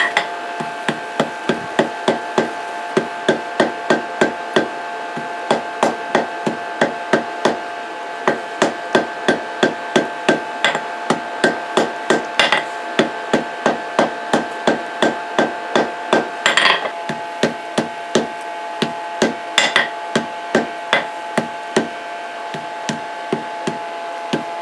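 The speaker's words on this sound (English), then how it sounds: "Now we can go ahead and forge weld that area." A hammer forge-welds heated steel cable on an anvil, delivering a long steady series of sharp ringing metallic blows at a brisk even pace, close and loud with brief pauses, no talking.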